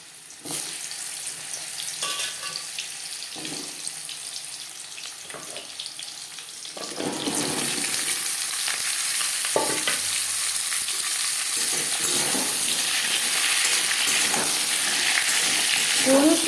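Five-spice seeds and dried red chilies fry in hot oil with a steady sizzle, then pumpkin and papaya are added, and a much louder broadband hiss sets in and continues to the end.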